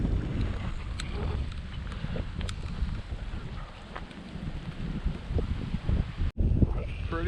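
Strong wind gusts buffet the microphone out on open water near a barge canal, a steady rough rumble with a brief dropout near the end.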